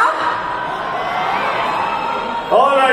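A concert crowd cheers and whoops at a Bollywood show at Expo 2020 in Dubai, the noisy roar holding steady before a sharper burst swells near the end.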